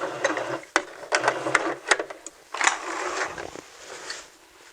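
A sewing machine back stitching a T-shirt dress, a close mechanical whir with irregular clicks and rattles, fairly soft and steady, no talking.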